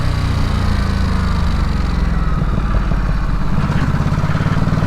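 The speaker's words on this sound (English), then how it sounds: "There's a crackle and a pop on the overrun as well." A 2022 Ducati Supersport 950 S sportbike engine runs steadily and loudly close by, with a rough, burbling crackle and pop on the overrun and no voices.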